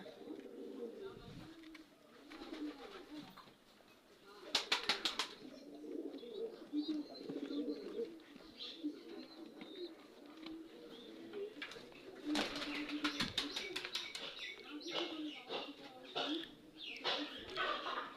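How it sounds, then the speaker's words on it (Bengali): Pigeon chicks, including domestic and racing pigeon chicks, coo and chirp softly, with repeated murmuring calls and occasional sharper chirps, while a person talks over them nearby. "দুই পিস কবুতর বাচ্চা সে এটাও বাজি কবুতরের বাচ্চা"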